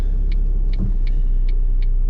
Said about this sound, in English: just hitting some morning traffic here